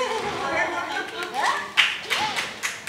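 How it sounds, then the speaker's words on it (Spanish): A circus audience claps in short bursts amid lively talk and laughter, the applause coming in a few sharp rounds close by. "¡Aplausos!"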